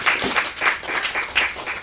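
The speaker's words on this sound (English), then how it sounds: "Please let's give them a round of applause." An audience at a social entrepreneurship symposium applauds the panelists, many hands clapping in a thick, continuous roll with small swells, close and fairly loud, with no voices over it.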